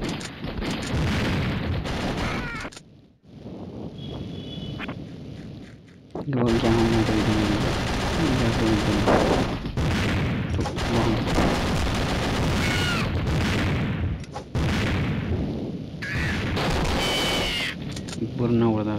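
Gunfire and bomb blasts in the mobile shooter game Mini Militia, dense bursts of rapid shots and booms running under a player's constant talking, with brief pauses between clashes.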